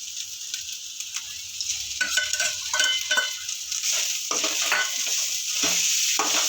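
Pirandai roasts in a pan with spices such as cumin, fennel, coriander and pepper for a thuvaiyal, a constant crackling sizzle with a spoon stirring and scraping at close range, growing busier as it goes.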